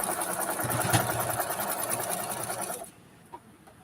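A sewing machine stitching half-square-triangle quilt pieces whirs steadily and close for nearly three seconds, then stops, leaving a quiet room with a small click.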